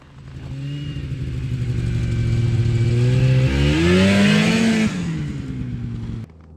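A Yamaha Phazer 2 snowmobile is ridden past nearby, its engine rising in pitch as it accelerates, peaking loudly, then dropping away and cutting off near the end.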